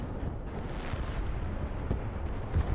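Distant 2S19 self-propelled howitzer fire in the Broken Arrow battle game, heard as a low rumbling boom with faint follow-up thuds against a dull, steady battlefield background.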